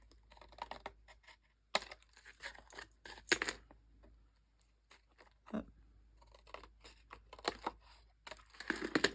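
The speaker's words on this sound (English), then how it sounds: "I'm going to rest my scissors on the chipboard and just slightly taper." Scissors make quiet, close snips and crisp clicks at an irregular pace, with brief pauses between cuts, while angle-cutting along chipboard for a stationery folio.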